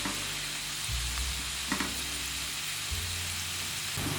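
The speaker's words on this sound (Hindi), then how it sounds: "ऑयल गर्म हो चुका है, अब इसमें एक बड़े साइज की चॉप की हुई प्याज डाल लेते हैं।" Large chopped onions sizzle and fry steadily in hot oil, a continuous close crackle with occasional stirring bumps, no talking.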